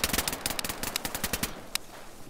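Rapid bursts of gunfire in the video game DayZ, a quick run of shots for about a second and a half followed by one last isolated crack, moderately loud and without talk.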